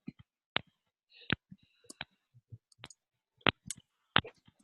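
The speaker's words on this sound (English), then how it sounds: "I was just typing." Someone types on a computer keyboard: sparse, quiet, irregular key clicks, a dozen or so separate taps with short gaps, close by and with no voice.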